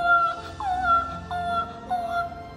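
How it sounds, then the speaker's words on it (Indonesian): Baby crying at bedtime in a children's Christmas nativity story, heard as repeated rising-and-falling wails with a whimpering, howl-like quality in several bursts, fairly close and alone. "Joshua langsung bilang, Abigail, itu suara bayi menangis"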